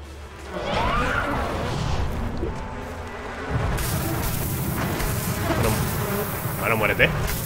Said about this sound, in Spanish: Escucho moscas. ¿Es un enemigo de moscas?